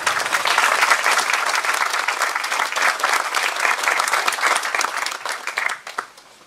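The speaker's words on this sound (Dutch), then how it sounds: "Mag een applaus voor deze mannen." Audience applause for a group of men at an outdoor church celebration held at a park bandstand, steady crowd clapping for about six seconds before fading out quickly.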